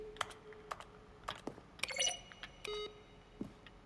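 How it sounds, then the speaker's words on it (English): Button presses in The Stanley Parable video game, each a crisp keyboard stroke blended with a short synthesized tone, heard as several separate clicks and beeps in an irregular pattern against a quiet background. "When buttons are pressed, each sound is a mix of a keyboard stroke and synthesized tone."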